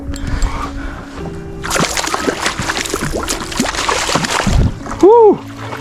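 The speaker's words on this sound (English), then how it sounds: "That was a big splash." Near a fishing kayak during a fall striper run, a burst of rushing, splashing water erupts close by for a few seconds amid paddle and hull knocks, followed by a short whooping shout.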